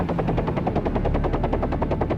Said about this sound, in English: it began to take off from downtown Manhattan Heliport